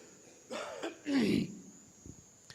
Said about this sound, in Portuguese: Desculpa, mas eu vou tossir o tempo todo